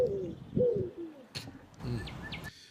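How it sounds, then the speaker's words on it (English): Pigeon cooing outdoors, a few low soft coos, fairly faint, followed by brief higher chirps and a light rustle. "No, that was a pigeon."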